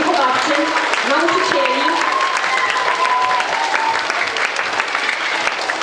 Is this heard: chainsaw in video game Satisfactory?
no